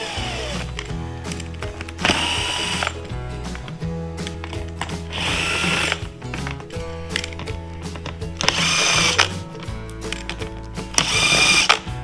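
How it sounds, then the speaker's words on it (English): A power driver backs screws out of a Predator 3500 inverter generator housing, several short whirring bursts separated by pauses, loud and close, with light clicks and handling noise between runs. "I'm going to pull these other screws off right here."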